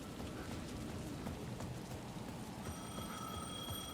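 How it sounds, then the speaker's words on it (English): A payphone rings through steady rainfall in the video game Alan Wake 2. Faint, thin ringing tones emerge late over a constant wash of rain, quiet and distant. "The payphone at the edge of the plaza was ringing again."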